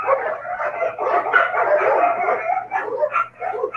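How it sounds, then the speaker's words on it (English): Several dogs bark and yip continuously near the microphone, their excited, overlapping barks filling the clip with a low steady hum beneath. "Wait, dogs are barking."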